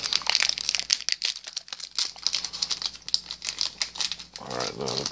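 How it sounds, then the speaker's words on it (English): Foil trading card packs of 2019 Panini Prizm Draft basketball cards being torn open, a run of quick crinkling rips and rustles, close and fairly loud, with no talking. "start ripping open some packs"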